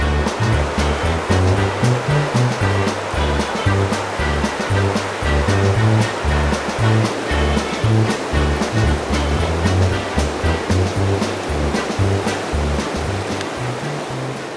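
Class 1 and 2 rapids on the Flambeau River in northern Wisconsin rush in a loud, steady roar of churning water, continuous and close with no voices.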